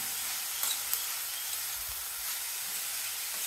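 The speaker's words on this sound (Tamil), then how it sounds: "இந்த காய் கொஞ்சம் நல்லா வதங்கட்டும்" Vegetables sautéing in a pan give a constant close hiss and sizzle, with a couple of faint clicks and a soft low rumble partway through, no speech.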